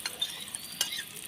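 Marinated pieces go into slightly too much oil in a small pan, giving a soft, quiet sizzle with a couple of faint clinks and no voices.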